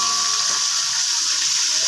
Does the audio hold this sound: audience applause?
no